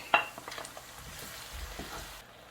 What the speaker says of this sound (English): Now I'm going to add the diced red onion to my preheated red